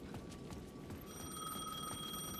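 A payphone rings in the Alan Wake II video game, a faint electronic trill starting about a second in over a muffled, busy game background.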